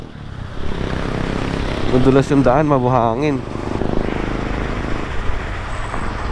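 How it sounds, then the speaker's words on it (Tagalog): A drone is launched over a sandy dirt bypass road in DRT, Bulacan, its steady motorized buzz running loud and continuous beneath someone speaking close by. "Tingnan natin, palipad tayo ng drone saglit."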